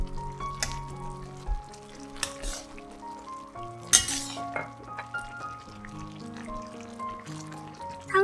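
A spoon clinks and stirs through a pot of vegetarian oyster-noodle soup as it thickens with cornstarch slurry, with short metallic taps and swirls set against steady background music.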